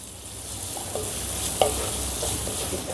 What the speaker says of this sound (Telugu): ఇప్పుడు ఈ ఉల్లిపాయలని పచ్చిమిర్చిని కొద్దిగా మెత్తబడేంత వరకు వేపుకుందాం